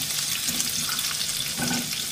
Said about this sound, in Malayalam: അപ്പോൾ നമുക്കിതിലേക്ക് അരിഞ്ഞു വെച്ചിരിക്കുന്ന സെലറി ചേർക്കാം.